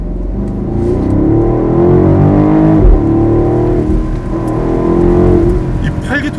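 A BMW X7 M50i's V8 engine revs with a steady, full rumble that swells and settles over several seconds, close and loud.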